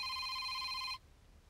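A telephone rings with a bright, steady electronic tone for about a second and then stops abruptly, leaving a quiet room with no talking.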